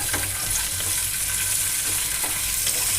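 Ingredients for carrot halwa fry in a pan with a dense, continuous close sizzle, and faint stirring scrapes recur throughout.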